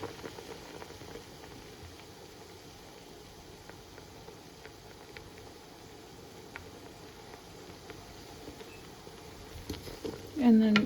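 A pot of ploughman's pickle boils on a kitchen stove, giving a steady, low bubbling and pattering close by that holds even for about ten seconds before a brief louder bump at the end.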